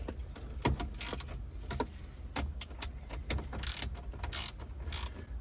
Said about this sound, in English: So that's just a 7mm deep socket on a spark plug wrench.